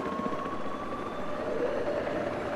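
A helicopter in the video game Battlefield 4, on the Siege of Shanghai map, gives off a steady, moderately faint rotor drone with no talking over it.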